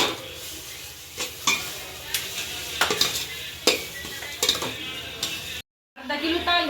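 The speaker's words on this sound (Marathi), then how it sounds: "छान असे मिक्स करून घेऊ" Spoon stirring home-made masala and coriander powder into chicken biryani in a pot over a soft sizzle, with irregular scrapes and clinks against the metal, close and moderately loud, cut by a brief silence near the end.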